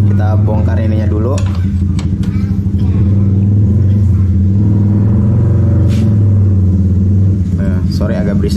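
A motorcycle engine rumbles loudly close by, revving as it passes, while someone talks over the noise.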